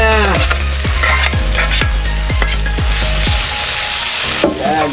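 Bitter gourd (ampalaya) sizzles loudly as it goes into a hot pan, a steady frying hiss broken by repeated sharp knocks of a utensil against the pan.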